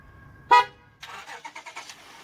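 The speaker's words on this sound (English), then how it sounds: "I could also remote start my vehicle" A Honda Odyssey started remotely with its factory key fob gives one sharp horn chirp, then the engine cranks with a quick run of pulses and catches, heard up close with no talking.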